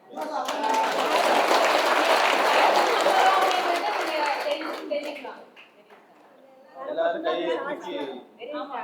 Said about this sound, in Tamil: அந்த கரகோஷமே அதுக்கு சாட்சி